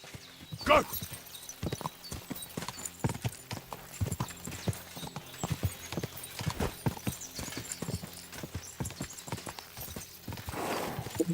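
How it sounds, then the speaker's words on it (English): Rapid hoofbeats of a galloping horse in the video game Kingdom Come: Deliverance II, a steady rhythmic clip-clop with a brief whinny near the start, fairly quiet and close. "Let's go try the horse riding."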